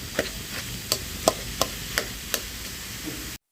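A spatula stirring egg into a snake gourd fry in a pan gives a handful of light, sharp taps and scrapes spaced about half a second apart over a faint background hiss.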